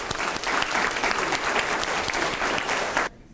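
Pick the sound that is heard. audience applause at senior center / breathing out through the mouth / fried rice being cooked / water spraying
audience applause at senior center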